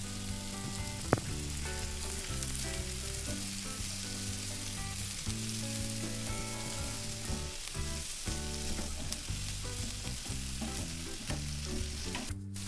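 Chicken pieces for Afghani chicken curry fry in a pan with a steady, dense sizzle and occasional stirring scrapes, close and continuous throughout, no voices.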